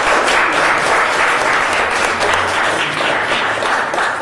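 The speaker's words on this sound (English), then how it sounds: "Let's give them a round of applause." Full, continuous applause fills a hall at a memorial and education center during a political event, a thick wash of many hands clapping at steady loudness throughout.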